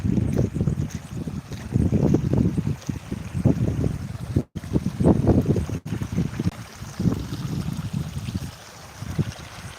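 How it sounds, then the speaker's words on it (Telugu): Water gushes forcefully nearby from a leaking Gorakallu reservoir pipeline onto a road in Bethamcherla, in a deep, churning roar that surges and rumbles without pause, with no voices. "ఫోర్స్గా నీళ్ళు వస్తాయి ఈ విధంగా సౌండ్ వస్తుంది"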